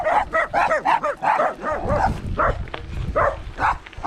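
Several small dogs bark and yip in quick, high bursts close by during a roadside bicycle ride in Sanger, Texas, with a few whimpering notes between the barks.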